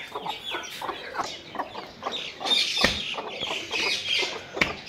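A hen clucks repeatedly in a farmyard near her eggs, with close, uneven bursts of clucks and a few sharper calls following one another throughout, loud against a quiet background.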